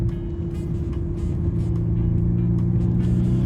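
A 2025 Bentley Continental GT Speed hybrid plays a synthetic V8 engine sound from inside the cabin as a low, steady drone with a strong hum, gradually swelling slightly while driving.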